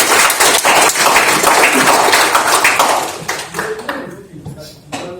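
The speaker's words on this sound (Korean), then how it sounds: "큰 박수로 환영해 주십시오" Applause from an audience welcoming a science hall's first-anniversary forum, a dense burst of clapping that thins and fades into scattered claps and room noise after about three seconds.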